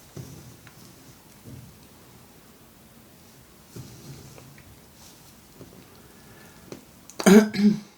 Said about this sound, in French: Je me suis remise à tousser en fait.